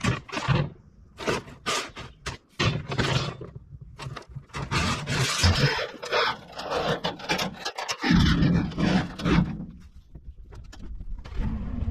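Heavy steel rebar being loaded into a pickup truck bed at a shop, with repeated loud metallic clanks, scrapes and rattles in irregular bursts, close by, ending in a sustained low rumble.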